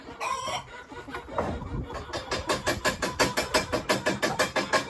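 Chickens, including Marans and Ayam Cemani hens, cluck and cackle close by in a steady, rapid run of repeated calls that grows more regular toward the end.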